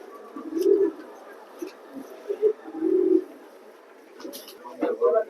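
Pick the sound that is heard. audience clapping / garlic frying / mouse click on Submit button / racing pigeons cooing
racing pigeons cooing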